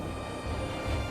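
An Airbus A400M military transport aircraft sets off for its return flight to Germany, its engines a steady loud low roar and rumble that fills the short stretch without pause.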